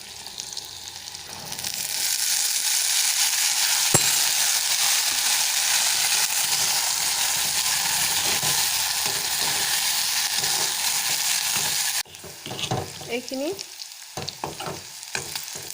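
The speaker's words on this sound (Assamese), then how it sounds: "ফাটি যোৱা, মানে ফুটি ওলাই যায় যে, তেনেকুৱা হোৱালৈকে ভাজি ল'লোঁ" Food frying in a pan hisses loudly and steadily for about twelve seconds, then gives way to scattered pops, crackles and stirring scrapes as it bursts open; a brief spoken word is heard.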